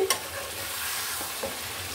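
Fresh ginger drops into a hot pan of duck curry cooked with coconut, raising a steady close sizzle and frying crackle, with a couple of light utensil clicks as it is stirred.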